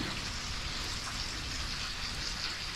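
Steady rain falling outdoors during a rainy-day trip, a dense even hiss with fine pattering drops close by, continuous and unbroken throughout.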